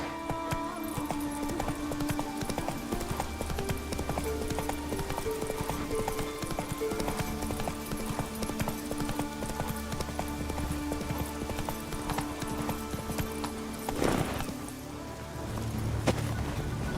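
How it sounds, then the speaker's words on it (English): Steady, rhythmic hoofbeats of the horse Roach galloping in The Witcher video game, with game music playing underneath throughout. "Run, Roach"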